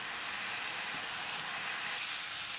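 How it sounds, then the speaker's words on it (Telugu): Beetroot frying in an open pan with the lid off, giving a steady close hiss of frying that continues throughout, with no talk. "ఒక 3 నిమిషాలు మనము మూత తీసేసి ఇలాగా ఫ్రై చేసుకుంటా ఉంటే ఇలా కలుపుతూ ఉంటే బాగుంటుంది"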